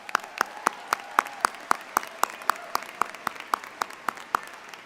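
Clapping at a GRCC Business and Industry and Health Sciences 2023 college ceremony comes as a crisp, evenly spaced run of about twenty sharp claps at a steady beat, fairly close and without voices.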